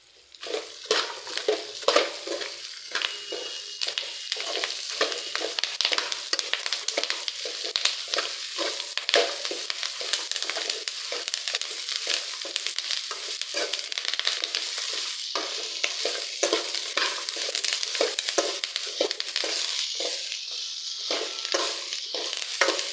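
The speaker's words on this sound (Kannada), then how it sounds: "ಕೆಂಪುಗೆ ಹಾಕಿರೋ ತನಕ ಹುರಿಬೇಕು." Toor dal fries in a hot pan with a continuous, close sizzle. Frequent scraping and stirring strokes run through it, and no one speaks.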